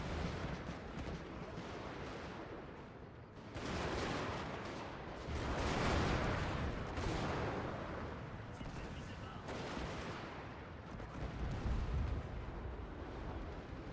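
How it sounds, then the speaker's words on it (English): Artillery fire in Shogun 2: Fall of the Samurai, a dense, continuous roar of booming cannon blasts and battle noise, loud and sustained with surges, under talk. "The artillery is just absolutely slaughtering them."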